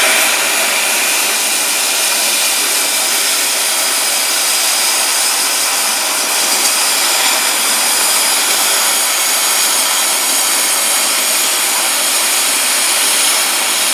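An oxygen-acetylene torch cutting through metal, a loud, steady roaring hiss that runs unbroken and close with no pauses or talk.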